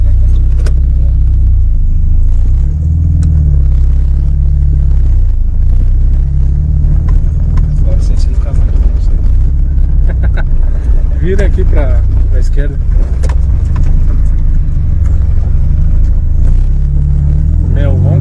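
Inside a moving Volkswagen Golf MK3, the engine drones with a steady deep rumble throughout, swelling slightly at times, while someone speaks briefly over it.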